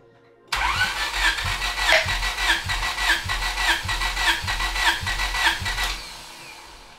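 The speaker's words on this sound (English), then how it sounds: "So we want to crank the engine with the throttle open." A Honda Civic B16 engine cranks with the throttle held open for a compression test, its starter turning it over in a loud, even, rhythmic chug for several seconds, heard close up and alone.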